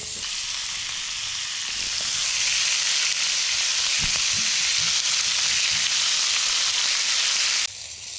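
Deer heart pieces sizzle and fry in butter in a pan, a steady close, loud hiss with a few soft crackles and pops throughout, briefly dropping near the end.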